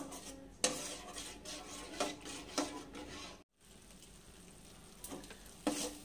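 Spice paste with cashews fries in a pan for doi katla fish curry, a soft steady sizzle broken by several distinct scraping, clattering stirs and a brief silent gap midway, with no speech.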